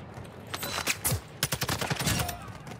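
Rapid bursts of automatic gunfire and scattered shots crackle through a Call of Duty DMZ firefight, fairly close and dense, with no talking over them.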